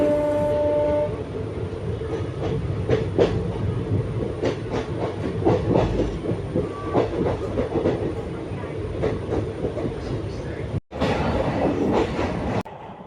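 A train rolls steadily past at Chandigarh railway station, with rhythmic wheel clatter over rail joints and a horn at the start, heard close by.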